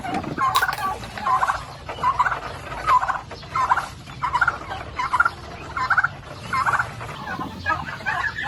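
Ducks quacking in a steady run of loud, close calls, about one burst per half-second, with no talking.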